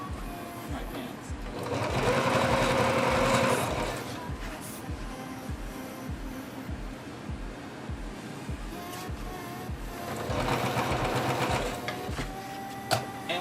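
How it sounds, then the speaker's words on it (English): An old-fashioned Singer sewing machine runs a standard straight stitch in rapid rhythmic bursts, with a steady mechanical clatter that rises in two busier spells and quieter pauses between. "any standard sewing machine, this is a Singer, like an old-fashioned Singer"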